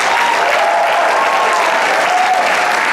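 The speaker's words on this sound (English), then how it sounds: "Let's give one round of applause for everyone who performed tonight." A loud round of audience applause for the performers at a talent show finale rolls on steadily, dense clapping with a faint crowd murmur beneath and no one speaking over it.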